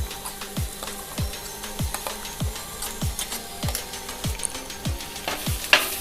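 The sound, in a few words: crushed coconut, onion and squid stir-frying in a pan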